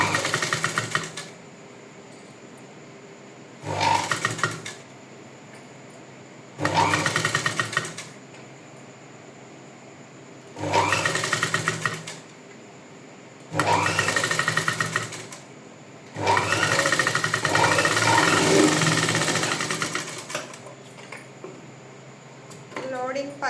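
A sewing machine stitching piping onto a blouse front with a normal presser foot, running in steady bursts of a few seconds separated by pauses, close and fairly loud, with someone talking quietly in between.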